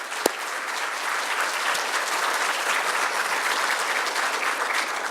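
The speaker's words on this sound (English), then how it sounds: "Please join me in giving them a big hand of applause." A crowd claps steadily in a dense, even burst of applause following a single sharp clap at the start.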